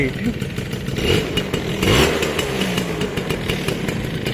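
A Suzuki Crystal 110 motorcycle engine runs at a steady, rattly idle up close, with a slight swell in the middle and constant putt-putt pulses.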